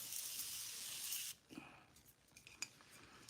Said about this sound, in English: Continuous Setting Spray, and this is gonna help me kind of everything blend together.